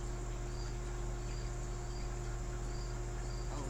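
Crickets chirp continuously in the background, a steady, even trill that holds through the whole stretch with no talking over it.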